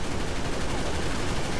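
Rapid, continuous automatic weapon fire from a Gauss cannon in the video game Halo Reach, a loud, dense stream of shots filling the whole moment with no talking over it.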